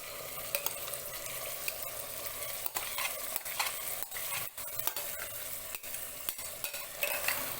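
Drained rice stirred into hot oil or ghee in a pressure cooker pan for matar pulao: a continuous sizzle with repeated scraping strokes of a spoon against metal, close and without talk.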